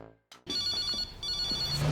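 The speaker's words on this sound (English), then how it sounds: "The phone is ringing." A telephone rings in a scene from the 2006 TV show Daybreak, a steady electronic trill that starts after a short gap and continues close and clear.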